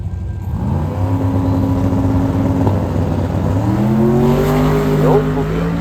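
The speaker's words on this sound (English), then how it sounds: "pass 1133 at 108 miles an hour is Alexander. Esperanza. Coming up here on the left side" A drag racing car, a 1300 hp supercharged LS3 street car, passing at about 108 mph at an LS Fest drag strip, its engine note rising and sweeping past, with an announcer talking over it.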